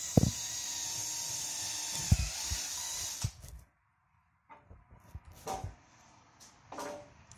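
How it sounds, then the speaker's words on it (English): A power drill boring pilot holes in wood boards for storage shelves, a steady whine for about three seconds that stops, then short bursts. The sound is fairly close and moderately loud, with brief clatter between the bursts. "So I got Pam drilling pilot holes."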